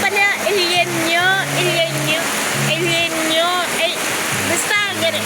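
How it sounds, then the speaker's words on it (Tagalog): Heavy rain from a storm pours steadily as a constant, loud hiss beneath a person talking throughout, the downpour never letting up. "So nagbagyo na dito guys. So malakas na yung ulan"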